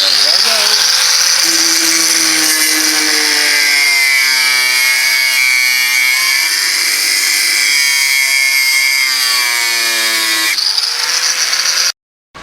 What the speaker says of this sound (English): I think I will basically grind the head off so that the bolt with the nuts will drop to the other side.